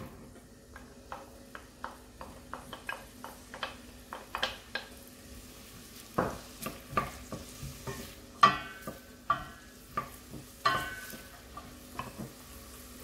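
Onion cooks in butter and oil in a soup pot, quiet and close. A spoon taps and scrapes the pot in a loose rhythm of sharp knocks over a faint, soft sizzle.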